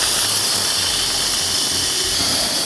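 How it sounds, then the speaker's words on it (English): Steam vents from an Instant Pot after the sealing knob is turned to the venting position, a loud, continuous, steady hiss that runs unbroken from start to finish. "We're going to turn the sealing knob from the sealing position to the venting position. This removes the rest of the steam and the pressure from the Instant Pot."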